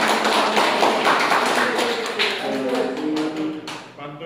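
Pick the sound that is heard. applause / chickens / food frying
applause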